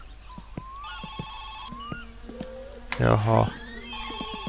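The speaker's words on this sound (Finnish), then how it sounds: "Puhelin soi." In the video game My Summer Car, a telephone rings in repeated bursts of a rapid bell pattern, fairly soft, with someone speaking briefly between the rings.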